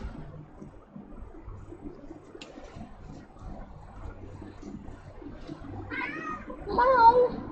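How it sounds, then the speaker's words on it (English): A cat meows a few times near the end, close and fairly clear, after a stretch of quiet room noise with faint background sounds. "Good cat."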